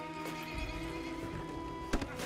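A horse whinnies and its hooves clip-clop in a rural, GTA-style video game, the neigh rising clearly over a steady game soundscape with a sharper burst near the end.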